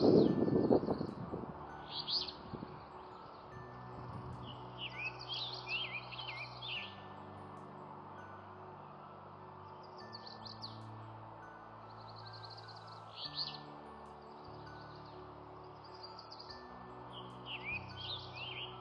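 A male scarlet tanager sings along a rail trail in Nova Scotia, its hoarse burry phrases repeating every few seconds from some distance over a low outdoor hum, with a short loud rustle at the start.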